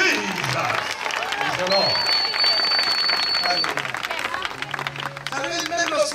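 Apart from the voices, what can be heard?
crowd applauding and acclaiming the Lord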